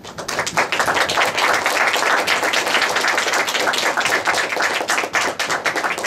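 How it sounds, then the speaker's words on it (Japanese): An audience in Takasaki claps to welcome a film director onto the stage at a screening, a dense, even burst of many hands that sustains loudly for several seconds. "ではもう一度拍手の方をお願いいたします。"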